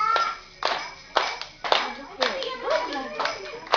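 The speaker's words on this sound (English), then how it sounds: "Clap and clap and clap and clap." Children clap their hands in time with a group song, sharp claps landing roughly every half second with singing voices running underneath.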